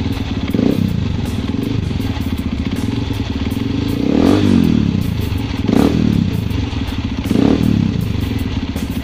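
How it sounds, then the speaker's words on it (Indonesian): Honda CRF150L motorcycle fitted with a Norifumi Rocket 4 exhaust, running close up with a steady rumbling note and several throttle blips swelling and fading, no voices present. "ini dia suara knalpotnya."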